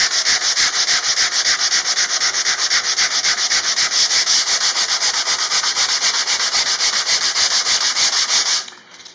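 Hand sanding a wooden part with abrasive paper, a loud, close, steady rhythmic scratching of fast back-and-forth strokes that runs continuously and fades out at the end.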